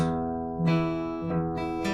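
Acoustic guitar fingerpicked in a thumb, ring, thumb, middle pattern across the strings, several plucked notes ringing into each other, close and clear with no talking.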